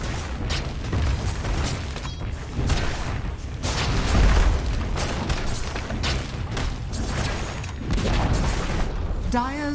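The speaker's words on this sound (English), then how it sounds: "Dire's top tower is falling" Dota 2 gameplay with a tower under attack and collapsing: dense bursts of booms, crashes and mechanical impacts pile up continuously, loud and busy, with an announcer-style voice speaking over the action.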